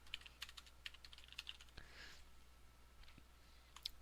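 Someone typing on a computer keyboard, a quiet irregular patter of key clicks close by, with a brief pause in the middle before the tapping resumes.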